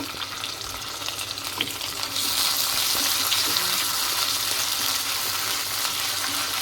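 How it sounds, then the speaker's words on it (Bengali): Cut meat sizzling in a pan with lightly fried onions while being stirred, a steady close frying hiss that grows louder partway through and then holds. "একটু ভেজে নিব"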